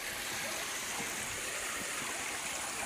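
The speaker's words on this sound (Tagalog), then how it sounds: "Ang lakas ng uh, busay po ni Chukilyo" A strong waterfall stream rushes and roars continuously, loud and close, a dense broadband wash of flowing water with no pause.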